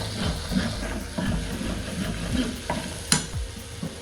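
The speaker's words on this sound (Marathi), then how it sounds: "आता आपण हे सर्व मिक्स करून घ्यायचं।" Tomato and sugar masala is stirred in a pan, a thick bubbling sizzle under repeated scraping strokes of a spoon against the pan, with one sharp clack near the end.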